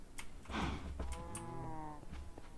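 Cows mooing in the game Borderworlds, a single drawn-out low moo with a wavering tone, plus a few short clicks and a brief higher call.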